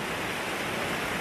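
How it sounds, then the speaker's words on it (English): A rainforest waterfall gives off a steady, even hiss of rushing water, close and continuous over a short stretch, with no voices. "So I'll show you the waterfall, yeah?"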